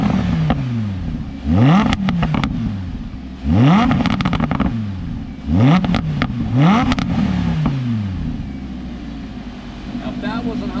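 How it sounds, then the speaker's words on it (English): A 2016 Lamborghini Huracan Spyder engine in Corsa mode blips through repeated sharp revs, four or five rising surges with crackling overrun between them, loud and close, and a voice speaks in the gaps. "I wanted to make sure I recorded some of the revs of this car in Corsa mode"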